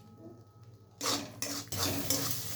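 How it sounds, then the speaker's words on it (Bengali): A spoon stirring mushroom masala with green peas in a pan, a few scraping, clattering strokes against the metal after a quiet opening, close and moderately loud. "হালকা আমি নাড়াচাড়া করে নিলাম।"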